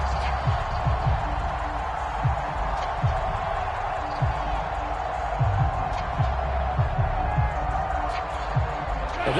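Seahawks home stadium crowd roaring in a PS4 football game, a steady loud wash of crowd noise with thumps and scattered impacts underneath, while a commentator talks over it.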